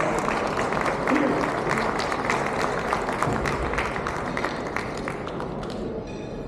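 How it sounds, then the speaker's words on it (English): Audience at a corporate presentation clapping to welcome a speaker on stage: dense, steady applause filling the room for several seconds and fading slightly at the end. "Please join me in welcoming him with a warm round of applause."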